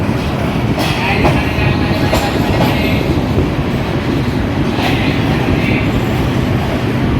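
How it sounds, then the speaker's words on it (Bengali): Jayantika Express, an intercity train bound from Dhaka to Sylhet, pulling out of Dhaka Airport railway station, heard from inside as a loud, steady rumble with rhythmic wheel clicks and clanks throughout. "ঢাকা থেকে ছেড়ে আসা সিলেট অভিমুখী আন্তনগর সাতশো সতেরো নং জয়ন্তিকা এক্সপ্রেস নিয়ে ছেড়ে যাচ্ছি ঢাকা বিমানবন্দর রেল স্টেশন"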